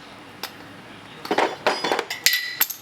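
Metal clanks and clinks ring out as a tool hammers on a car part during an LS engine swap on a Monte Carlo SS, a few spaced blows and then a quick irregular run of sharp strikes.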